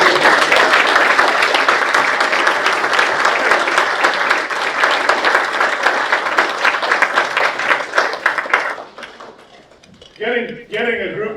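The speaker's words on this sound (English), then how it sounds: "So I'd like a round of applause." Audience at a Terrier Hall of Fame induction gives a round of applause, dense clapping that holds strong for about eight seconds, then thins out and fades as a voice begins talking near the end.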